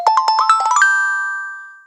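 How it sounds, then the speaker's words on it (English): A phone ringtone goes off nearby: a quick run of bright chiming tones that ends on one sustained ringing note, which fades out over about a second with no other sound. "Sorry about my phone going off like that."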